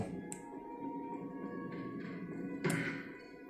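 A door opening in a PS1 video game: a few dull thuds and taps, then a louder clunk near the end, over a low steady background hum.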